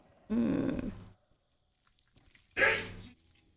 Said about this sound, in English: Damn, that's a dad sneeze